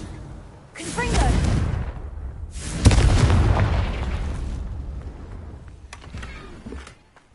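Confringo spell explosions in Hogwarts Legacy, two loud booming blasts close together, the second the sharpest, each rumbling off into a fading tail, with brief speech and quieter effects afterward.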